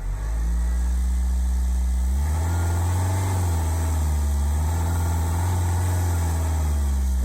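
A Ford Fusion 1.4 TDCi diesel engine fed with hydrogen runs close and loud, holding a steady idle before its revs rise and then swell and dip a couple of times under throttle.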